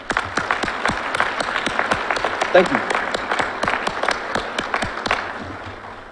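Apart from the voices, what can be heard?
audience applause at a fire recruit graduation ceremony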